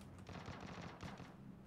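A Vector submachine gun fires in the video game PUBG Battlegrounds: rapid automatic bursts, quite quiet, with a clear rattling volley followed by a second short burst.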